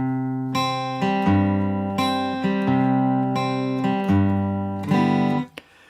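A guitar plays a line from a song, with clear picked notes over ringing low strings in a repeating pattern of about six strums before stopping abruptly.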